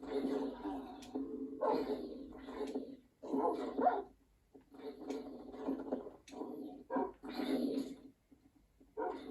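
Several small dogs bark and yip in short clustered bursts, some higher-pitched whines mixed in, with quiet gaps between, sounding slightly processed like game audio.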